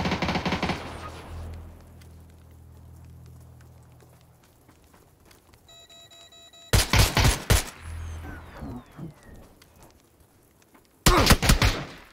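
Bursts of gunfire from a PUBG match: two loud, dense volleys of rapid shots, separated by quieter stretches holding faint distant shots and ambient noise, with no talk.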